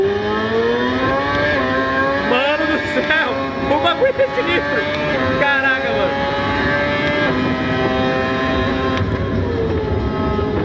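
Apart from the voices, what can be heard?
Ferrari F1 car engine in a racing simulator game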